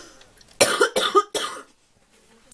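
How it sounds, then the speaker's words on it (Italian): Three harsh coughs in quick succession, close and loud, followed by quiet. "Madonna mia, sta tosse mi passa più"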